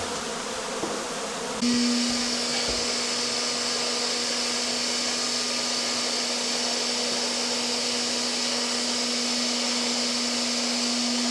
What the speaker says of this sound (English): If the pressure's too high on the hoover, it sucks the bees up and just kills them.